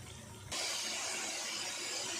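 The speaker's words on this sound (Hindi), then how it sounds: "अब पानी डाल देते हैं" Water poured into a pan of potatoes and spices cooking for aloo pulao, a sudden rush of splashing and sizzling hiss that starts abruptly and continues steadily, close and moderately quiet.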